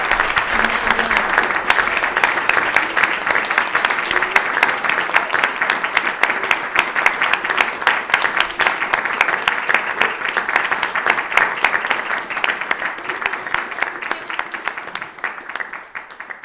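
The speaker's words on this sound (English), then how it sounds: "Give them a big round of applause, Tracy." An audience at a backstage music evening applauds steadily and loudly for the full stretch, a dense wash of clapping that tapers off slightly near the end.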